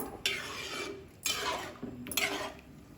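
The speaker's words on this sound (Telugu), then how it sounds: "ఒకసారి కలుపుకొని మొత్తం పూర్తిగా" Mutton curry being stirred in a pot, a spoon scraping and swishing through it in three separate strokes, close and moderately loud, with no voices.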